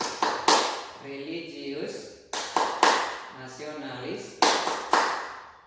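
A group of children claps out the Tepuk PPK routine, with sharp bursts of claps in quick pairs. Between the bursts the group chants words together. The sound is close and loud.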